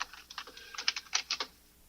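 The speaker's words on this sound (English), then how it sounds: "love the sound of a keyboard." Rapid clicky keystrokes on a computer keyboard, close and crisp, in irregular bursts before trailing off into quiet; no voices.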